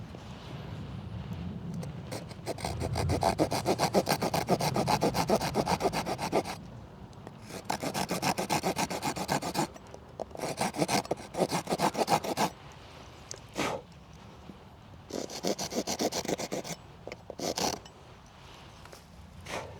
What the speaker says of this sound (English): Our bow and spindle are working nicely